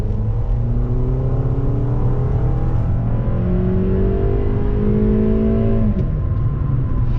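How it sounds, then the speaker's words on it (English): A 2019 Toyota RAV4 Limited AWD crossover's engine revs in sport mode, rising and falling repeatedly as it climbs through the range, loud and close with no voices over it. "if I just reach down here and put it in sport and even just leave it in drive, it almost sounds kind of like an old Civic Si"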